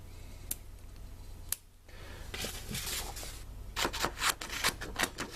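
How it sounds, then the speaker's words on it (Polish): Small scissors on a Leatherman Skeletool multitool cut through paper in a string of crisp snips and rustles, sparse at first, then quicker and more clustered near the end. "Tak już jesteśmy przy małym, to może spróbujmy te nożyczki."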